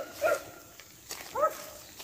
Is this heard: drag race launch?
no